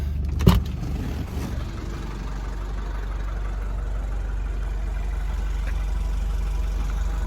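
A 1977 Mercedes-Benz 240D W123 diesel runs at a steady idle, a low continuous drone close by, with a brief louder knock near the start and no talking.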